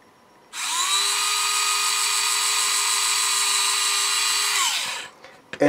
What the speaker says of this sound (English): I'm going to take my drill and I'm going to drill a hole on each